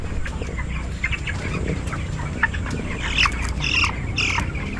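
Chickens on a game farm breeding fowl during a barangay fiesta cluck and squawk near the microphone in repeated bursts that get busier toward the end, over a steady low background rumble.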